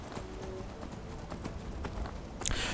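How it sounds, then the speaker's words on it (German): Horse hooves clip-clop in the video game The Elder Scrolls V: Skyrim, a rapid run of soft hoofbeats over a steady dense rumble, ending in a brief louder bright burst. "Und wieder rauf aufs Pferd und dann geht's weiter."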